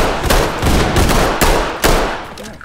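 Pistol shots fired in a video game crack out loud and close, four or five sharp reports at irregular intervals over a dense, noisy game soundscape.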